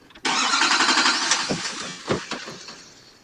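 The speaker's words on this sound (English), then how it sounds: "He's starting the car up." A car engine cranks and catches at once, settling into a steady mid-pitched running roar, with a few knocks and thumps as it idles close by, with no voices.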